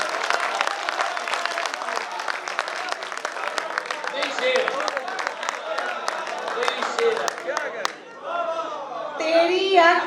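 Audience at a poetry mushaira in an auditorium bursts into loud, sustained applause with dense clapping and cheers for about eight seconds, then it thins briefly before a voice speaks over renewed crowd noise.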